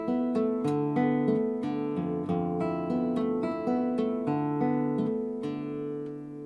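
Classical guitar plays measures 15 and 16 of Leo Brouwer's Etude 6, a steady flow of plucked arpeggiated notes over ringing bass, clear and close with no talking.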